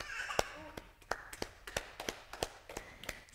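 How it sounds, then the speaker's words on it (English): Hand claps in a mother and baby yoga class, about a dozen sharp claps in a steady rhythm, close and fairly quiet, with a soft voice underneath. "So we can start with some claps."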